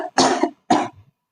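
Two distinct harsh coughs from one person, close and fairly loud, separated by a short pause and followed by a faint low vocal trailing sound.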